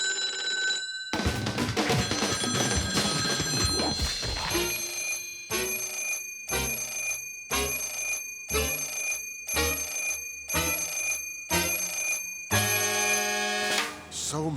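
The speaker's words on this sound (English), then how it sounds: "we could always count on that phone to ring" An old telephone bell in the Sam & Max Freelance Police game rings in repeated bursts with short gaps between them, loud and close.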